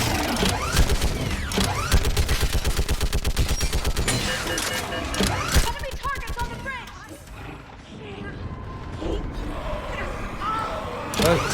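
Rapid bursts of gunfire strike an energy barrier in the sci-fi shooter Mass Effect 3, with dense repeated shots and impacts in the first half thinning out later, all under ongoing talk.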